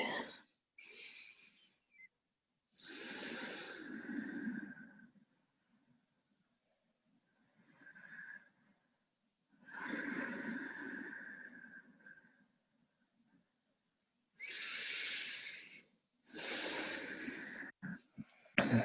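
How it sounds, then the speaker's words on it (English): Slow, deep breaths during a Yin yoga session, each long airy inhale or exhale lasting a couple of seconds, repeated in a steady rhythm with quiet pauses between, close and alone. "Allowing your sacred breath to move you for 3 more rounds"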